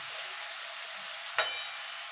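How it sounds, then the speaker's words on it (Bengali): Mourala fish chachchari cooking in a covered pan gives a steady soft sizzle and hiss, with one brief sharper crackle partway through; no voices are heard. "এবার আমি ঢাকা দিয়ে দিয়ে মাছটাকে রান্না করে নেব।"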